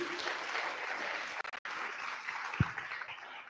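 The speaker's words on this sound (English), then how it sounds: "Can we give BCX a round of applause" An indoor audience at a youth tech festival applauds for a few seconds, a dense patter of clapping that briefly dips before continuing, moderately near, with no one speaking over it.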